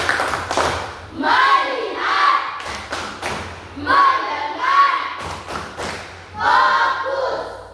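A school class performs the 'tepuk fokus' focus clap routine, rhythmic bursts of group clapping and thuds arriving in several patterned rounds, loud and close, with children's voices chanting along.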